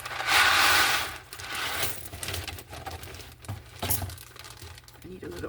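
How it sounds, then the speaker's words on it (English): Leftovers pushed into a small plastic bag, a loud crinkling burst up close followed by quieter irregular rustles and crackles, with occasional soft talk. "I'm just going to put the rest in this little bag"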